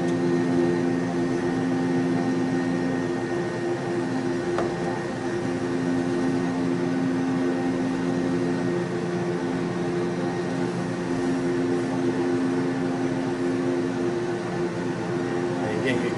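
Steady drone of aircraft engines in a Beechcraft King Air flight simulator during takeoff with too much flap set, a continuous even hum with low tonal bands that holds level throughout, with no other sounds standing out.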